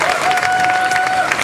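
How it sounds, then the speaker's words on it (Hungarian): An audience at an outdoor stage performance of Beauty and the Beast at a summer picnic event claps in a loud, dense burst of applause, with a thin sustained tone running through it. "Homonnai Zsoltnak kérnék egy nagy tapsot, és gyönyörű kolléganőnk, Vágó Bernadett."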